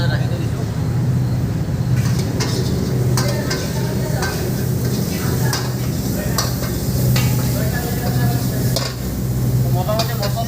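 Red bell pepper and spices fry and are stirred in a hot pan, with a continuous loud sizzle and scraping stirs throughout, plus a voice talking over the cooking.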